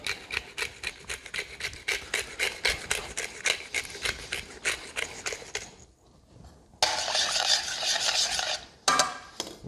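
Salt and ground pepper go into a shrimp scampi sauce, heard as a steady run of quick rhythmic rasping grinds from a pepper mill, a brief pause, then more bursts of grinding close by.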